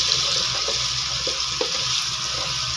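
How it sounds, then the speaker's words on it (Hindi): Chopped onions frying in hot oil, a steady close sizzle with faint stirring clicks, with no talking. "मैं ऑयल में डालूँगी प्याज जो कि मैंने कटर में चॉप किए हुए थे। और इसको जो है मैं थोड़ा सा ब्राउन करूँगी"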